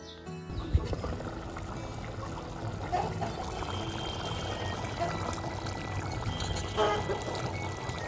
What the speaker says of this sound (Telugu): పులుసు పోసుకుందాం.